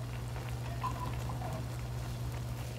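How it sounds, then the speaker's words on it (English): Hot water is poured into a pot of Haitian conch stew, a faint, steady liquid pour with soft trickling and a low background hum, no voices. "Now I'm gonna add some hot water."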